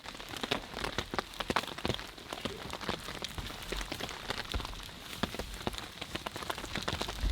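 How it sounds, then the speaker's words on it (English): Heavy rain pours down in Aokigahara forest in Japan, a dense, steady hiss of drops pattering on leaves and surfaces throughout, with no voices heard. "Right now, the rain is coming down really hard,"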